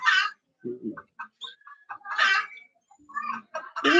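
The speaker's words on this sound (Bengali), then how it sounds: "মুরগি আছে ছাদে" Chickens on a sunny house rooftop cluck and squawk in short, close bursts separated by brief pauses, with one bird's calls rising loud near the end and no talking.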